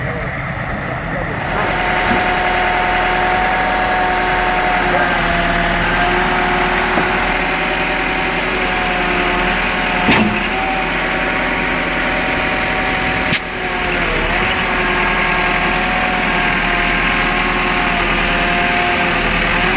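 An IMT 5200 tractor engine runs steadily and fairly close, giving a continuous droning hum with a couple of brief knocks partway through.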